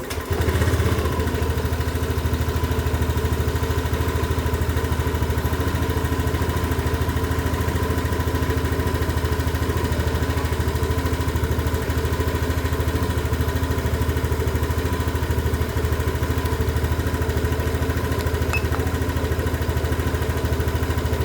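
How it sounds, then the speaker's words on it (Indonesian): Honda Beat scooter engine idling steadily and loudly up close for about twenty seconds, a continuous even mechanical hum with slight clatter, no talk. "Kita nyalakan motornya lagi."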